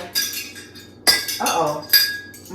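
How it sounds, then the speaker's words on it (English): Glass drinking straws clink and rattle together as they are set into a container on a pantry shelf, with a few sharp bright clinks over a quiet room. "So we're gonna put the glass straws in here."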